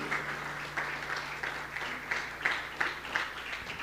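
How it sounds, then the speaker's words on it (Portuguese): A church congregation claps in praise at a Portuguese-language worship service, a dense, rhythmic patter of many hands at moderate distance with a low steady hum underneath. "Pode aplaudir ao Senhor"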